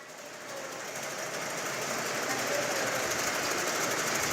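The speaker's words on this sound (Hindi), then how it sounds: "सिलाई मशीन चला रही ये वो महिलाएं हैं" Sewing machines run steadily in a Bhopal prison workroom where women inmates stitch face masks, giving a continuous dense mechanical whir that holds at an even level for the whole stretch, with no one speaking.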